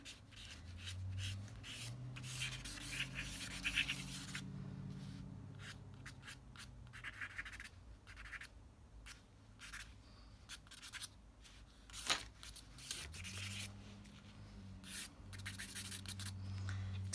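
Quick sketching on paper with a drawing tool, a steady dry rubbing and scratching that comes in short bursts and longer strokes, close and fairly quiet, with no talk over it.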